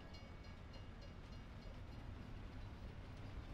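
A freight train in Farming Simulator 22 rolls steadily with a continuous low rumble and wheel noise, quiet and unbroken, with no talking over it.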